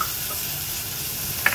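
Ivy gourd pieces fry on a tava with onion and spices, a brief soft sizzle with a small clatter near the end, heard alone.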